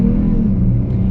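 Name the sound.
2020 Dodge Charger V6 accelerating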